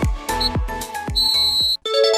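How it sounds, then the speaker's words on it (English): A referee's whistle at a football match sounds in several short, sharp blasts. Some come as trilling chirps, some hold a steady pitch, and they end with one longer shrill toot, close and clear. "The whistle blew."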